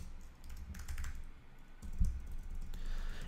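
A computer keyboard is typed on in quick, irregular bursts of light clicks at close range while a password is entered, with a soft background hum and no talking.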